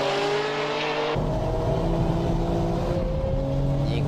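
A Nissan Nismo and a Ferrari Modena race uphill, their engines roaring loud and steady throughout, with a sharp shift in engine tone partway through as the cars pass or change gear.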